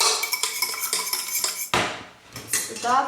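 A utensil beats egg and sugar rapidly against a bowl in quick, rhythmic clinks, pausing briefly before resuming the brisk whisking; close and fairly loud, with no talking.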